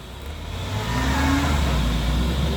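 A diesel engine in an Isuzu Elf truck roars loudly and up close, its steady revving climbing as the accelerator is floored, with no talking.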